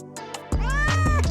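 A cat meows loudly and close by in a drawn-out, wavering cry, preceded by a softer, shorter mew.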